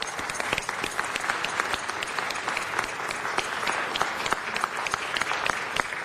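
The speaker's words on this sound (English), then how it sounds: "If we could again give them a round of applause" A city council meeting audience claps steadily for about six seconds, with dense, even applause that stays fairly loud throughout.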